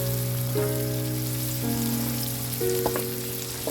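Koi fish with spices frying in a pan for a village-style koi bhuna, a steady sizzle running throughout with occasional stirring clinks and tonal hum from nearby, no talking.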